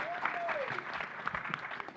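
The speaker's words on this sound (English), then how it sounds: "Please give him a round of applause." Clapping from an audience at a student body president debate, a steady patter of applause at moderate distance with a voice carrying over it.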